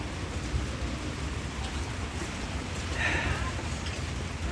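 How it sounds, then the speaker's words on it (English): Heavy rain pouring steadily outdoors, a dense unbroken hiss close around with a slight swell partway through, no voices. "it's not supposed to be raining, but it's pouring"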